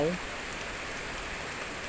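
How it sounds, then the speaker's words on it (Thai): Steady rain falls outdoors in a rural field setting, a continuous soft hiss of drops on surfaces that fills the whole stretch at an even level, with a brief voice at the very start. "ฝนตกครับพี่น้องครับ"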